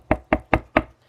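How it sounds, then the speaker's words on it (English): Four firm, evenly spaced knocks on a front door, close and loud with a hollow wooden thud, delivered in a quick steady rhythm. "A knock came at the front door."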